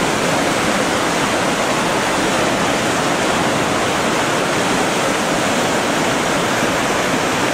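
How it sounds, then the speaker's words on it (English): Water pours steadily over a small dam on Mill Creek near a project office, a loud, dense broadband roar that holds unbroken with no voices. "The water's rolling pretty good."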